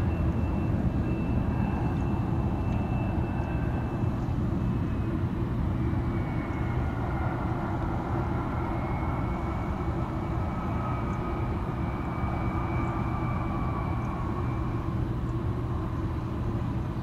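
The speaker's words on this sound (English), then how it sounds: "regional jet." An Alaska regional jet on the runway gives a steady, loud engine roar with a low rumble and a whining tone that shifts slightly in pitch, holding constant for the whole stretch with no talk.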